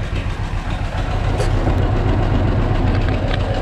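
A John Deere 520 tractor idles while warming up, its engine thumping in a steady, even low rhythm, loud and close with no voices.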